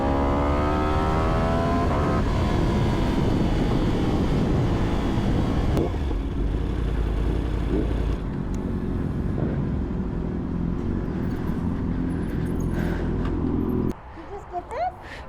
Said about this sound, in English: Oh, I love the sound of this bike.